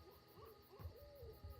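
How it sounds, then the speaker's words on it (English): Night birds hoot in a video game forest, soft repeated owl-like calls over a low murmuring ambient bed. "Strange rustles and cries of night birds could be heard everywhere"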